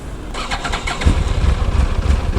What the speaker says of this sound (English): once I restart the bike again, the engine will stall immediately after when I crank the engine